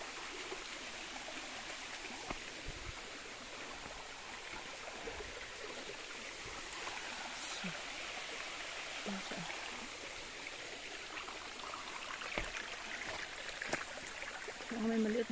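A small waterfall at Bisay Falls in Poblacion, Sual, Pangasinan, giving a steady, fairly soft rush of falling water that holds even throughout the whole stretch.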